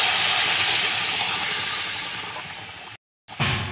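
Water hits hot oil in a pan of frying potatoes and bitter gourd, setting off a loud, steady, close hiss and sizzle that fades slightly, cuts out briefly, then flares again.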